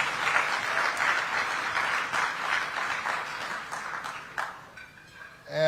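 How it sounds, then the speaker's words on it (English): A gala awards audience breaks into sustained applause, dense and full, slowly thinning toward the end before a sudden louder burst at the close. "Give him a great big round of applause."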